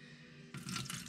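Water poured into a pan still holding meat scrapings from making beef bone broth, a short, faint splashing gush that starts abruptly after a quiet moment.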